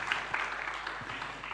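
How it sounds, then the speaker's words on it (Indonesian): Brief burst of congregational applause for the Lord during an online Sunday church worship service, a soft, even patter of many hands at moderate distance, short and continuous. "Mari beri tepuk tangan yang meriah bagi Tuhan kita."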